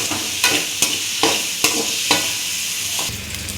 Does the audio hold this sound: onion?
yes